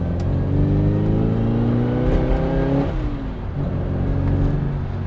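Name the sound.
Classic Mini Cooper A-Series engine with straight cut gearbox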